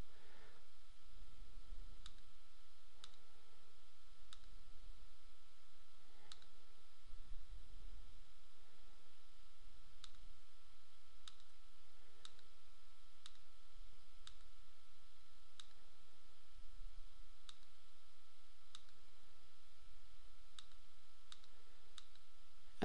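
Mouse clicks during a Microsoft Project software tutorial, heard as sparse, soft, sharp ticks spaced irregularly over a quiet, faintly hissing background, with no talking.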